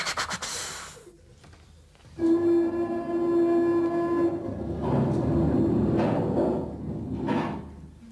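A train wagon sound effect plays on a theatre stage, with rumbling rail noise, a sustained horn-like tone and clattering swells over several seconds, without talk.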